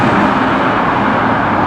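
A Maserati GranTurismo with a 4.7-litre V8 passes on a London street, a loud, steady engine roar that fills the whole moment without easing off.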